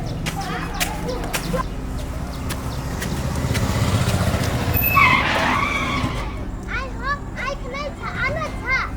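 A car skids in a long, rising screech that builds to a peak midway, heard over a busy outdoor scene with children and other voices talking and shouting throughout.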